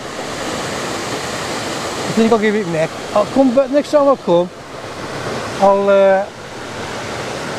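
A waterfall roars as a constant broad rushing wash that runs the whole way through, while someone speaks briefly over it.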